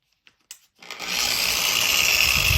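A VEVO pipe and tube polisher-sander with an 8 amp motor switches on after a few faint clicks and spins up into a steady, loud whirring hum at low speed that holds evenly to the end.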